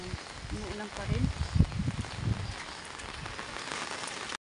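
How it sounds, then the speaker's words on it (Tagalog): Steady rain falls during a typhoon and monsoon flood, a broad continuous hiss of drops on surfaces with a few louder patters, while people talk faintly underneath. "Umuulan pa rin."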